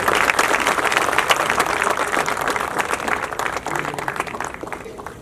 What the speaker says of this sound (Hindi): तालियों की करतल ध्वनि बजती रहे